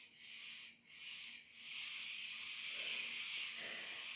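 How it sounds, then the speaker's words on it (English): Black cockatoos call from a distance in the bush, with hoarse, drawn-out wailing cries that swell and fade over a few seconds. They are faint and heard alone, with no talking. "Can you hear the black cockatoos?"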